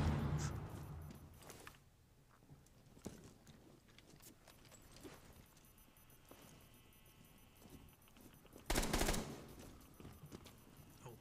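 Gunfire from the first-person shooter Rainbow Six Siege, a few sharp shots scattered through quiet in-game ambience, with one loud burst of rapid fire near the end.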